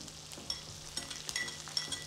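Sliced onions and green chillies sizzle and crackle in a pan, a quiet steady fry with small pops and stirring taps scattered through it.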